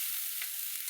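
Chopped onion frying in a pan gives a steady, dense, close sizzle with a brief brighter crackle partway through; no one speaks.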